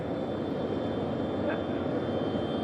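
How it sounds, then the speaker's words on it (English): A steady jet engine drones at Kennedy Space Center, a constant broadband roar with no clear changes, moderately loud. "can you all hear me over the jet?"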